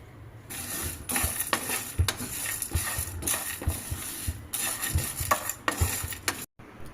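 Almonds and lentils dry roasting in a pan without oil, stirred so the hard pieces rattle and clatter steadily against the metal, with repeated close scraping and clicking throughout and a brief pause near the end.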